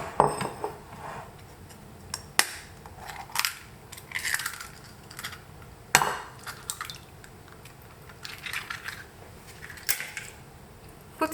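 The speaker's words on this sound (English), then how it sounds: "I'm going to mix the egg here." Egg being mixed into muffin batter in a bowl, heard as a string of soft clacks, scrapes and knocks of a utensil against the bowl, quiet and uneven, with no voices.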